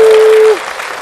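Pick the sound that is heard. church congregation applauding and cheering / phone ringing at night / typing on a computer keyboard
church congregation applauding and cheering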